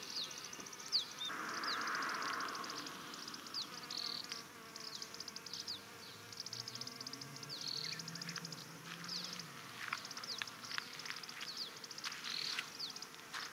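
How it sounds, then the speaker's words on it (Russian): A bee gathering nectar buzzes steadily close by in a forest among flowering lungwort, its drone rising and fading over a quiet outdoor backdrop with faint insect and bird sounds. "Вон пчелка жужжит, мед собирает."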